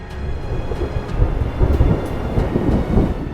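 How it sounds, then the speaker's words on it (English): Rumbling thunder from an approaching violent thunderstorm rolls in off a lake near Chicago, a loud, continuous low roar with irregular swells and crackles and no voices. "creating conditions for violent thunderstorms and spectacular horizontal lightning"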